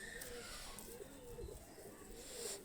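Pakistani high flyer pigeons coo softly in a series of low, rounded calls, faint and somewhat distant over a background hiss, with a few higher chirps mixed in.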